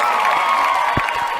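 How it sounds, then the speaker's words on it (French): A crowd cheers and claps in a brief burst, with whoops and raised voices mixed into steady applause. "Applaudissements"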